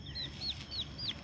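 Four short, high chirping calls from a chicken in quick, regular succession, fairly faint over a soft background hiss.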